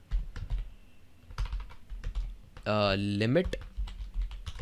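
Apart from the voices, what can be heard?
typing code on a computer keyboard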